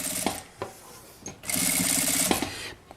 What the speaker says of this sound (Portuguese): Aí eu vou fazer a costura em toda a volta.